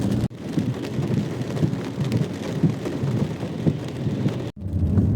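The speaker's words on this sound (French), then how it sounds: "il pleut toujours" Steady rain falls in a dense, even wash through the whole stretch, loud and close with no voices, broken by two brief near-silent cuts near the start and near the end.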